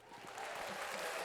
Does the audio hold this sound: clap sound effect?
yes